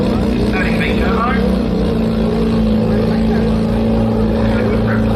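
A turbocharged Mazda RX4 coupe drag car makes a continuous loud engine drone at the 2024 Garrett Brisbane Jamboree drag strip, with a commentator talking over it throughout.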